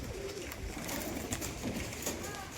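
Several pigeons coo continuously at a tumbler loft, overlapping low throaty calls at moderate distance with faint background noise and no clear talk.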